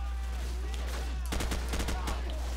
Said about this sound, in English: Oh no! I shot Glenn